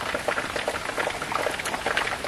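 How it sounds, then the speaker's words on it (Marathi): Rain falls steadily outside in a Kokan village in the evening, a dense even patter of drops close by with no voices. "बाहेर पाऊस मस्त पडतोय"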